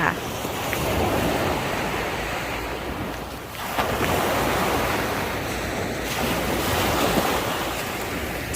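Sea waves break on the shore at Pranburi beach in Thailand, a continuous close wash of surf with a brief lull and fresh surge, mixed with wind buffeting the microphone.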